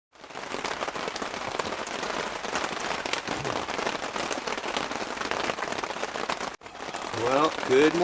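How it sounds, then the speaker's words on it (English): Rain falls steadily outside a tiny bushcraft cabin with a wood stove on a winter camping trip, a dense patter that drums on the surfaces for the whole stretch. A brief break comes near the end before a voice starts speaking. "It's raining. It's not a lot really, but it's coming down pretty good."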